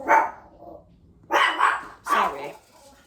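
Dogs bark indoors at someone arriving home, three sharp loud barks, one, then a pause, then two close together, near and without talk.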